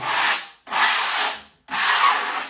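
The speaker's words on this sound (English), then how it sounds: "So the paper's up, use my caulker smoother" A caulker smoother makes three long, even rubbing strokes across wallpaper in a steady rhythm, each a broad hiss separated by brief pauses.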